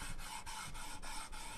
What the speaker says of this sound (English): I'm going to use my little press pop here to press it down.